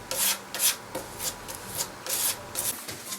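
Wood filler is rubbed into a gouge on a reproduction tanker desk in short, brisk scraping strokes, roughly eight passes in quick succession, close and fairly quiet with no voices.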